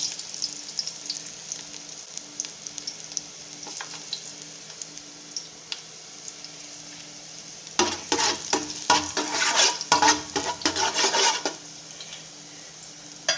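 Garlic hits hot cooking oil and sizzles steadily, with a burst of louder crackling and stirring scrapes partway through, no voices, for a salmon sinigang dish.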